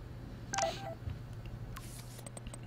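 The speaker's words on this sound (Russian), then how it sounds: "СМС от Уоррена." Text message notification chimes on a phone in the video game Life Is Strange, a short bright electronic alert followed by a few faint clicks over a low steady background hum, with no talking.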